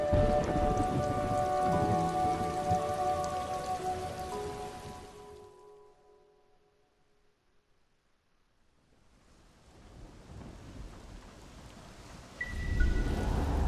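Steady rain patter in a video game with low rumbling, fading to near silence midway before the downpour gradually returns and builds again.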